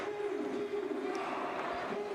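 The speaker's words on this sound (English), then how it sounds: "A valiant cheer from the fans in the arena." Fans in a basketball arena raise a sustained cheer at a Portugal v Greece FIBA Basketball World Cup 2027 European qualifier, a steady crowd roar with a held sung or shouted tone on top.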